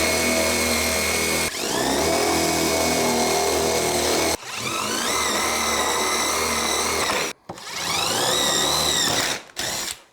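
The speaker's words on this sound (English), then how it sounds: "I'll drill a hole in each one, just enough so I can fit in my jigsaw blade" A power drill with a 1/2 inch bit bores holes in wood in three loud, close bursts of whirring and grinding, its pitch sagging under load and then climbing, separated by brief pauses.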